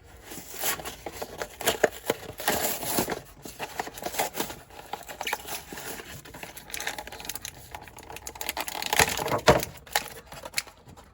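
An action figure is pulled from its plastic package, producing irregular crinkles, crackles and rustling bursts of stiff plastic up close. The sound comes in uneven handling bursts for several seconds.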